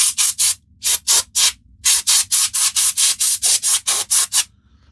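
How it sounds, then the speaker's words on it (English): Rapid back-and-forth rubbing strokes on the casing of an old Stuart dynamo generator, each a loud, close, hissing scrub in steady rhythm, with a short pause early on and then an even run of strokes. "Poor old generator, she needs a rub down"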